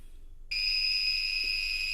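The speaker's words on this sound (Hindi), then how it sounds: "ये यहां पे बजर साउंड करता है" A Microtek inverter circuit board under repair sounds its buzzer: after half a second of quiet, a steady high-pitched electronic tone starts abruptly and holds without a break, close and loud, with no talk.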